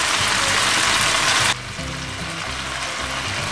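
Quartered tomatoes drop into a pan of sizzling octopus seasoned with black pepper and spices; a loud, dense frying hiss suddenly softens partway through and continues as a lower, steady sizzle with faint crackles.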